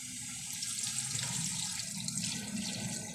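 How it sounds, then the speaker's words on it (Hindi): Water pours steadily into a pot of egg and chicken curry with softened tomatoes, a continuous splashing flow that runs unbroken for a few seconds, with no talk over it. "अभी मैं पानी डालता हूँ।"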